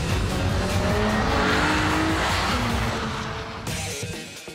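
Nissan 350Z driven and drifted in the Gran Turismo video game, its engine roaring steadily under long squealing tyre slides, fading slightly toward the end.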